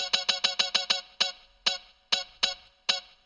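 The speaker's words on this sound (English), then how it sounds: "The only thing I'm actually not too happy about in this remake is the muted guitar that I use." Muted guitar sample in FL Studio for an Afro house remake of a song: short, clipped plucked notes in a quick run of seven, then four more spaced further apart, clean and alone with no talk.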